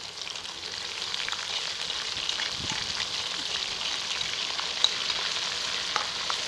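Ginger-garlic paste frying with golden potatoes in a karahi for Afghani aloo karahi, a steady, loud hiss and crackle of hot oil throughout, with occasional stirring scrapes and no talk.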